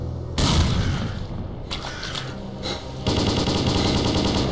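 Loud, sustained automatic gunfire in the video game STALKER Call of Pripyat, dense rapid bursts with a brief lull before another heavy volley, with no talking over it.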